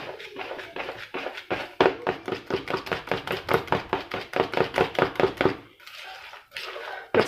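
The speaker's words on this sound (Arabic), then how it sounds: "نخلط هادشي مزيان." Carrot cake batter mixed vigorously by hand with vinegar just added, a fast rhythmic series of wet slapping, scraping strokes against the bowl, close and steady, briefly pausing near the end.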